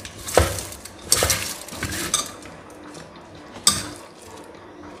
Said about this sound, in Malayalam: ഇതെല്ലാം കൂടി നല്ലോണം കൂട്ടി തിരുമ്പുക